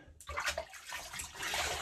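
Cold tap water runs for a rinse after a wet shave with Christmas spruce shaving soap, a steady close splashing stream that starts abruptly and carries on alone with uneven gushes.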